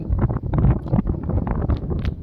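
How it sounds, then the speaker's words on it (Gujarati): Wind blows across an outdoor farm field where water runs into the furrows, buffeting the microphone in uneven low gusts that rumble throughout. "આજ થોડોક પવન હતી પવનનો કદાચ અવાજ આવતો હોય"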